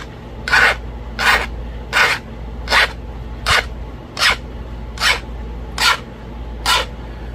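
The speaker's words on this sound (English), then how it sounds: "So let's sharpen this up again." A blade is drawn across a novaculite stone slab in nine evenly spaced rasping strokes, each a short, close, loud scrape separated by brief pauses.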